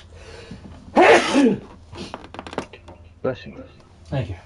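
A single loud, close sneeze from someone with hay fever bursts out, followed by brief breathy throat noises and light clattering sounds.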